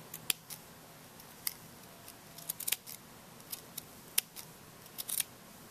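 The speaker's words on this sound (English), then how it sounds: "you can take your scissors, and what I like to do is I like to bring my finger across and just trim it" Scissors trim the yarn ends of a crochet Minecraft beanie, making a series of quiet, sharp snips at irregular intervals over low room hush.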